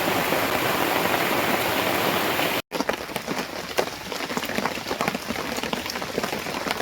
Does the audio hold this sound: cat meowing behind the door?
no